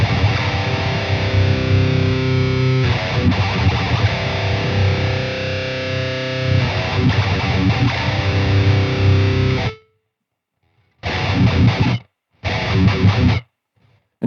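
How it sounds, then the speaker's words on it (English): A heavily distorted electric guitar plays thick, saturated riffs and chords, then cuts to silence before two short chugging bursts. "I'm going for like a Randall solid state kind of tone"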